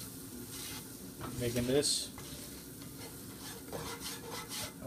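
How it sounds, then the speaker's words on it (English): About two tablespoons of flour stirred into melted butter in a pan to make a roux, a soft sizzle with a brief scraping swirl, and a voice speaking quietly alongside. "I'm adding about 2 tablespoons of flour. Next, just stir it in,"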